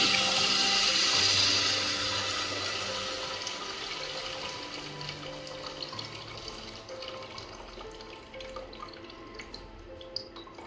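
Tamarind water poured into a simmering fish curry with sautéed tomatoes, a steady splashing hiss that is loudest at the start and then tapers into softer trickling and dripping.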